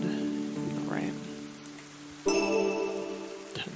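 Rain in the video game Ender Lilies, a steady hiss of falling drops over a soft musical score, with a brighter burst of shimmering, tinkling tones midway.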